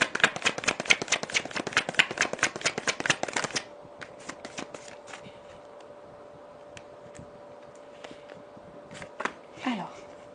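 Tarot cards are riffled in a fast, crisp run of flicks for several seconds, then give way to scattered soft taps and card handling, with a brief voice near the end.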